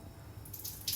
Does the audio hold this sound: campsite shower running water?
yes